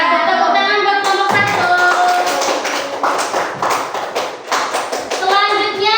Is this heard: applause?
yes